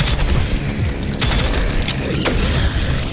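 Rapid auto-burst gunfire from a weapon in the Prodeus first-person shooter, loud booming shots in quick clusters over a continuous din of combat.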